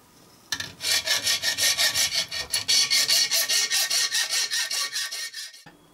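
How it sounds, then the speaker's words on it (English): Hand filing or sawing off excess material from a scratch-built gauge 1 live steam model part, a steady run of about twenty close rhythmic rasping strokes, loud and alone. "Just a few minutes of hacking out, just cutting the real excess material off."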